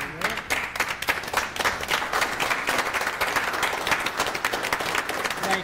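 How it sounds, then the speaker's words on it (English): Audience at a city school board meeting rises in a standing ovation, vigorous crowd applause with distinct individual claps punching through a steady roar. "gets a standing ovation and a round of applause"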